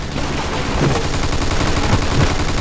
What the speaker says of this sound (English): Looks like we found the machine gun.